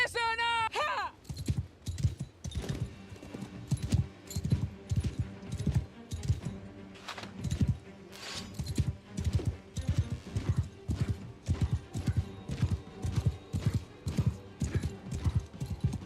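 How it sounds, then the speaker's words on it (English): Hooves clip-clop rapidly over rough terrain as a horse gallops in a Warhammer Oldworld mod game, a dense rhythmic pounding with a brief neigh at the start and battle noise mixed in. "That horse is functioning a lot better in this terrain."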